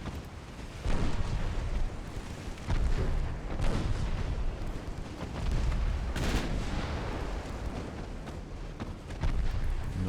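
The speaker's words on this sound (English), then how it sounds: "Nine-inch guns is really not finding their mark." Nine-inch naval guns booming in Ultimate Admiral Dreadnoughts, several heavy, loud blasts spaced a second or two apart over a constant rumbling battle background, with no talk.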